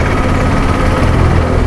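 A vehicle engine fitted with a replaced exhaust idles steadily, close and loud, with a deep continuous rumble and no talk over it.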